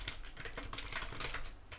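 Steady clatter of typing on a computer keyboard, rapid uneven keystrokes close up and continuous, with no voices.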